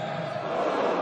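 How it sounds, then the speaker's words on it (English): Darts crowd at the 2014 World Darts Championship final swelling into sustained oohs and ahs, a dense steady roar of many voices filling the arena throughout. "Well, the oohs and the ahs, the crowd are demanding it."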